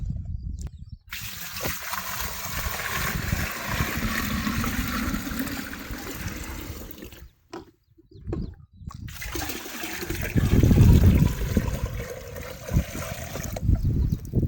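Water splashes and pours continuously as a bucket is drawn up from a well, with sloshing and a heavier gush near the end, close by, interrupted by brief quiet gaps.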